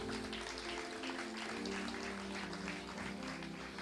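A church congregation applauds steadily, a dense, even patter of many hands clapping at a low, somewhat distant level with no talk over it.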